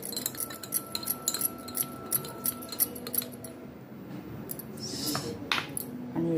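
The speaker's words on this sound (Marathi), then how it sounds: "एकदा आपण हलवून घेऊया." A spoon clinks repeatedly against a glass while stirring sugar into a homemade sherbet drink made from crush syrup, a steady run of light metallic taps close up, fading to a softer swish toward the end.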